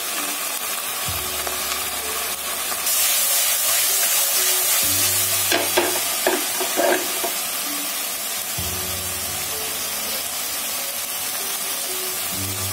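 Onion and garlic frying with pork in a pan, a steady sizzle with stirring scrapes and clatter mid-way, close and continuous without talk.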